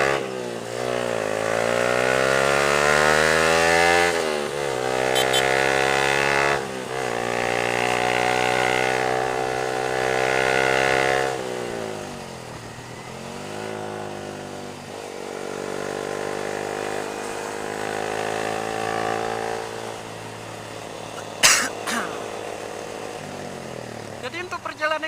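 A Honda CRF trail bike engine drones steadily while riding, rising and falling through gear changes over about twenty-five seconds, fairly loud and close, with a brief sharp clatter near the end.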